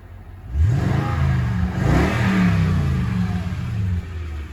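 A Toyota Tundra 1794 Edition with a 5.7 V8 revs up close by, its deep engine note rising and holding at a loud, steady roar before easing slightly at the end, with no talking.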